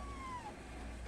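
A kitten gives one short, thin meow that falls in pitch, fairly faint over a steady low background hum.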